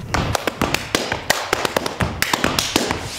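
Rubber gumboots are stamped and slapped in a polyrhythmic gumboot dance, a fast run of sharp, close taps and thuds in uneven clusters.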